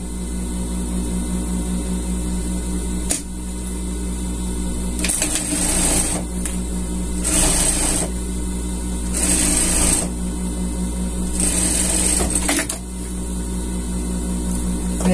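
A sewing machine stitches a hem in bursts, with several rapid runs of needle clatter separated by short pauses over a constant low motor hum.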